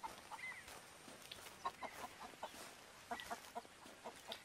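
Chickens at a camp in Red Dead Redemption 2 cluck in short irregular bursts, faint and close-ish against soft outdoor ambience, with no talking.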